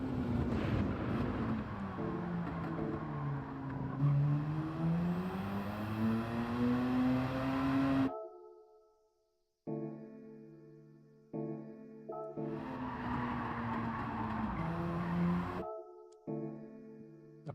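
Race car engine and tires in Gran Turismo 7, a loud engine sweeping up and down through shifts, then breaking into short clipped bursts with gaps of near silence before roaring again.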